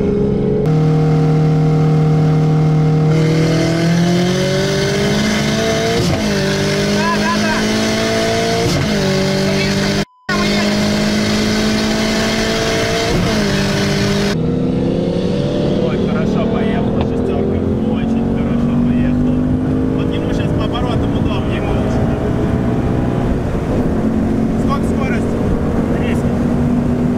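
A VAZ 2106 fitted with a Toyota Celica GT-Four 3S-GTE engine races a Ford Mustang GT500 5.0 V8, loud close engine revving up through several gear changes with a brief cut, steady drone continuing, voices talking over it.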